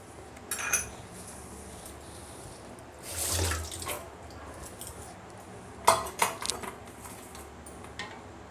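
Raw green mango and mint mixture strained in a kitchen, with liquid running and dripping alongside faint clinks of utensils against a bowl, a louder pour near the middle and a few sharp taps later, no talking.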